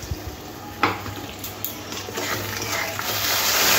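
Masala for a Bengali rohu fish curry stirred and sautéed in a pan, with soft scraping strokes and occasional utensil clinks over a quiet steady sizzle that slowly grows louder.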